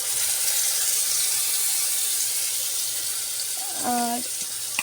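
A water-mixed spice paste of turmeric, chilli, cumin and coriander hits a hot pan with a steady, hissing sizzle, close and continuous, while someone speaks briefly and a few light tonal clinks sound.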